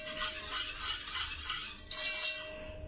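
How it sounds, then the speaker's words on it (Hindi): Pizza or pasta sauce being stirred in a pot with a spoon, a steady scraping swish with a soft sizzle underneath, close and continuous with a brief pause, no voices. "इस सॉस को अच्छी तरह से मिक्स कर लें"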